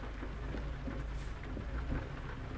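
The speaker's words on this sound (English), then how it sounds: "I guess it's because it's raining." Steady rain in American Truck Simulator, a dense, even hiss of falling water with a low rumble underneath, heard from inside a truck without any talk.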